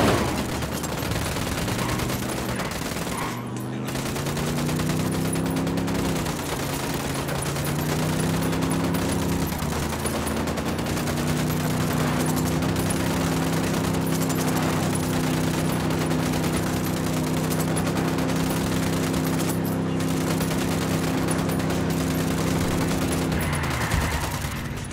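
Sustained gunfire and heavy engine rumble fill Ghost Recon Wildlands during an assault on a death truck in San Mateo, loud and continuous for the whole stretch with a droning motor tone underneath.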